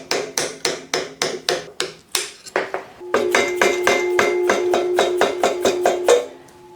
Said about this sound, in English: And a bigger hammer. Always the answer. Just punch that through the bottom now.